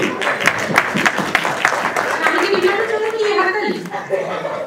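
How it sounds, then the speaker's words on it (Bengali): Audience applause for a person called up on stage at a Bengali New Year (Borshoboron) celebration, a dense spread of near clapping with crowd noise and a voice talking over it. "তার জন্য একটি হাততালি"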